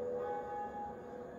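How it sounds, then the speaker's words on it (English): A bell tolls once in the Dark Souls video game, a steady ringing tone that holds and slowly fades, fairly faint, with no talking over it. "First bell rung."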